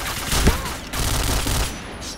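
Sustained burst of gunfire from the PointBlank shooter game, loud and dense with a rolling rattle and a few sharper reports, filling the short stretch without pause.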